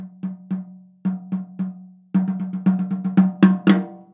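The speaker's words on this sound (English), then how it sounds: "my soft notes are little tippy taps like this" Light, quick ghost-note taps on a tight, ringing drum, starting sparse and evenly spaced, then turning into a faster run that grows gradually louder.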